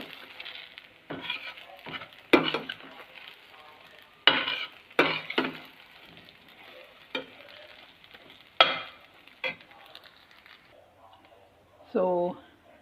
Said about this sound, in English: And I'm going to toss this one, so it should be nicely coated in all the idlis